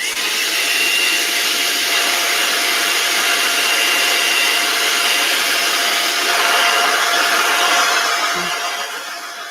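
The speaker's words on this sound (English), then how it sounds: "the best thing I can do is use my hairdryer again" A handheld hair dryer blowing on wet metallic craft paint, a loud continuous whooshing hum that holds steady for several seconds close by, then eases off slightly near the end, with no talking.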